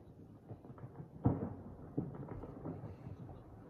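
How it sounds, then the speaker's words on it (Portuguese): Ice calving off the Perito Moreno Glacier in Argentina, a distant thunder-like crack followed by a low rolling rumble that fades, faint under outdoor ambience. "Parece que é um trovão. Não é trovão, não. É o gelo caindo."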